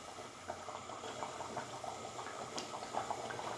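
Chana dal boils in a pan of water over a low gas flame, giving a steady, close bubbling and simmering hiss as the excess water cooks off, with no talking.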